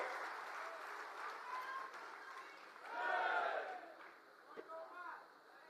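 A crowd at an Aam Aadmi Party rally in Gujarat applauding to welcome a party leader, a continuous wash of clapping that swells midway, somewhat distant and fairly soft.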